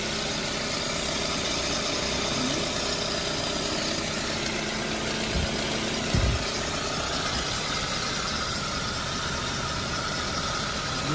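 A 2009 Ford Focus with a 1.8 engine and manual gearbox idles in a steady, even hum with a constant broadband drone throughout and no talk.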